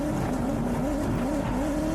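A Porsche drift car sweeps through a handbrake drift, its tires squealing beneath a loud, steady engine roar that wavers in pitch throughout, with no voices.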